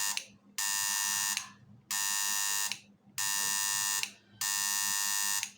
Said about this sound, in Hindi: बेल आ रही है, आपको आवाज़ आ रही है बेल की